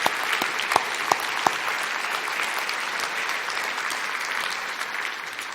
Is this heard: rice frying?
no